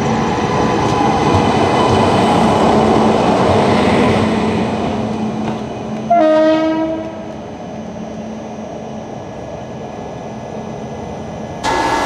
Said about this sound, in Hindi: रतलाम के मीटर गेज सेक्शन वाले प्लेटफॉर्म में हमारी ट्रेन का अराइवल हुआ